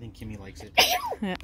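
A sharp sneeze bursts out right after a brief bit of speech, followed by more talking close by.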